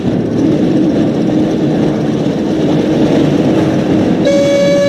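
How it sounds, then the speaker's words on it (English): Hogwarts Express steam train from the PS1 Harry Potter and the Chamber of Secrets game rumbles steadily and loudly, with a sustained train horn blast entering near the end. "Looks like we found the train, Ron."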